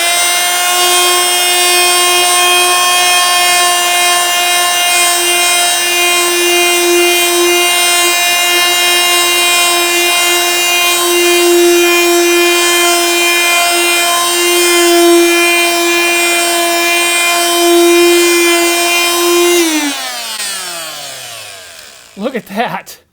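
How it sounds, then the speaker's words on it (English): A multi-tool buffs paint spots with paste polish, giving a steady high-pitched motor whine for about twenty seconds before spinning down and rattling to a stop. "Then I'll turn the multi-tool on"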